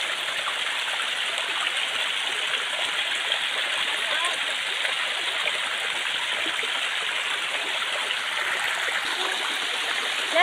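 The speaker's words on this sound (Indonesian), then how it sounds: "Jadi begini keindahan curug yang berada di Gunung Bongkok ini ya sahabat ya." A waterfall on Mount Bongkok, a dense, constant rushing roar of falling water that stays loud and even from start to finish.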